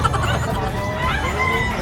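Many chickens cluck and cackle together at a busy, noisy pets and livestock market in Bocaue, with a rooster's crow mixed in and voices murmuring underneath.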